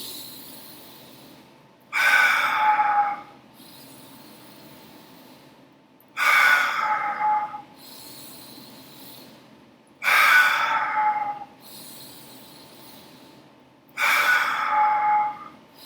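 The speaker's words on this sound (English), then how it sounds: "Exaggerate the breath in." Four deep, exaggerated inhalations at steady intervals, each a loud, drawn-out rushing breath lasting about a second and a half, separated by quiet pauses.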